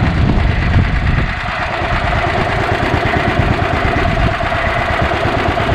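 A gas-powered EZGO Workhorse 1200 utility golf cart, repowered, idles steadily with a low, even engine rumble and faint vibration, close and continuous with no talk.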